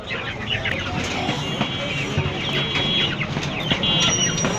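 Sonali chickens cluck and squawk constantly at a busy Bangladeshi poultry bazaar, a dense, close chorus with crowd noise and faint voices mixed in.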